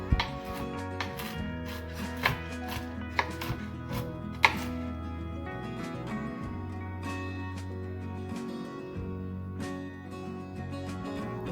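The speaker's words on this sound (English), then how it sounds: "we'll use 1 cup of pecans, which we'll give a quick chop" A knife chops pecans on a cutting board in quick, close, rhythmic strokes with sharp board knocks, then settles into steadier chopping.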